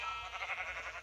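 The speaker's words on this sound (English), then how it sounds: "I have some colorful sheep right there" Sheep bleating in the Minecraft video game, a wavering synthetic animal call held across the whole second at moderate loudness with no talk over it.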